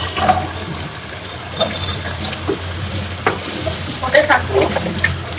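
Meat is dropped into a pan of fried spice paste while cooking biryani, giving a steady wet sizzle with scattered clatters and stirring knocks, fairly close and moderately loud.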